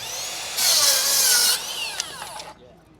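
A Makita XGT 40V GSR01 cordless circular saw bites into wood with a loud, steady high-pitched whine for about a second, then spins down and trails off with fading rasps; close and isolated, no speech.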